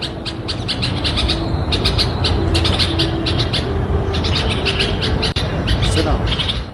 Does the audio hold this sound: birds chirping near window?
yes